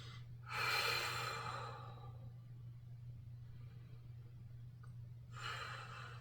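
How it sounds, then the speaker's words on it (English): Deep breaths during a golf core strength and flexibility workout, one long audible breath near the start and another at the end, quiet and close against a low steady hum. "Couple of deep breaths."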